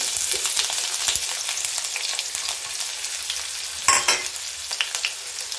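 Chopped onions hiss and crackle in hot oil, a bright continuous sizzle up close with a sharp burst of spattering midway, no talking.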